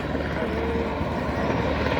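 A helicopter flying over mountains on the route to a Jammu cave temple, a loud continuous rotor and engine drone that stays steady throughout.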